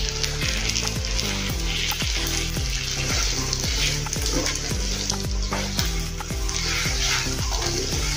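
A semolina and rice-flour snack sizzles loudly in a pan while Kashmiri chili powder is stirred in, with a dense continuous frying crackle and regular scraping stir strokes.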